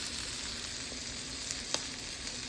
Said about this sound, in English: frying the smoked sausage